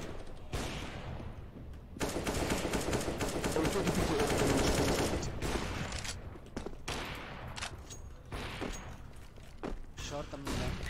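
Rapid automatic gunfire bursts in the video game Overwatch, loud and sustained through the middle, with shorter volleys later and people talking over the shooting.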